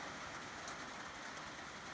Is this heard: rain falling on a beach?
yes